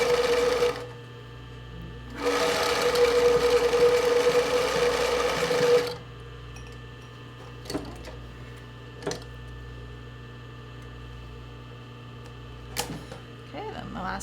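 A sewing machine stitches a boyshort in two steady whirring runs, the second lasting several seconds, followed by quieter handling clicks and small taps of fabric.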